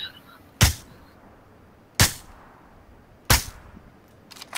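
Three sharp, loud gunshots spaced about 1.3 seconds apart in a multiplayer shooter video game, each a crisp crack with quick decay, plus a fainter shot at the very end over quiet background.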